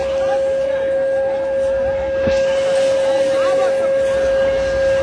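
The Benapole Express train sounding its whistle as it slowly approaches Gendaria station on the Padma Bridge rail line: one long, unbroken tone held throughout over rumbling background noise and faint voices.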